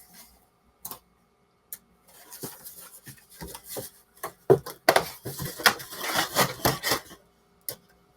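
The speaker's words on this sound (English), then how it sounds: "Sorry about the printer noise." An office printer calibrating: sparse clicks and ticks at first, then a busier stretch of mechanical whirring, rattling and rubbing, ending with a final isolated click, close by and with no talk.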